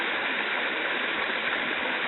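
Twin Falls waterfall and its stream pour in a dense, constant broadband rush, loud and close, with no voices.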